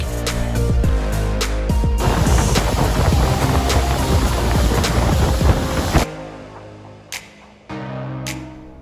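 A tour boat's engine drones steadily on a large lake while water rushes and wind buffets the microphone, then the noise drops to a quieter hum with a few splashes as the boat slows near Flowerpot Island, Tobermory.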